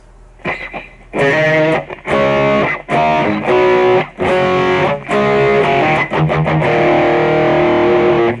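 Electric guitar played through a BOSS eBAND JS-10 with a distorted, effects-laden tone, loud chords and sustained notes cut off in short bursts and ending on a held, ringing note, with no voice.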